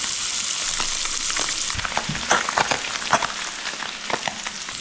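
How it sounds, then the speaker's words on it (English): Light, flaky crappie fish fillet frying in a pan, a loud continuous crackling sizzle close up with sharper pops and scraping clicks toward the middle. "because this is so light and flaky, it doesn't take but maybe a minute per side."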